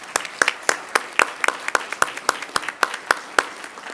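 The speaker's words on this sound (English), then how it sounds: "So I just want to give a round of applause to our representatives here first." Sparse applause at a city council meeting, with a few people clapping in distinct, fairly regular claps that sound close and thin rather than like a full crowd.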